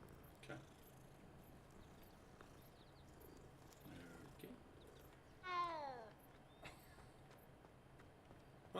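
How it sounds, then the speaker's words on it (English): A cat purrs inside the video game Hogwarts Legacy, a faint, steady low rumble under game ambience, with a brief meow-like chirp midway. "The kitty!"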